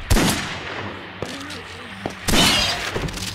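Sharp gunshots in Silent Hill: Homecoming, a few quick bursts with sudden impacts, close and loud against a low background hum.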